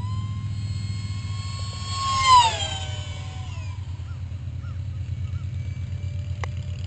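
A hopped-up F-16 model jet turbine whines steadily over a constant low drone, its pitch sweeping down as it passes near at mid-clip, then keeps droning outdoors.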